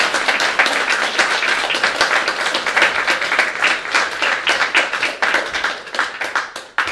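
Audience applauding at a cups and balls magic show with leather balls, a dense burst of close, sharp hand claps that rolls on steadily and thins out at the end.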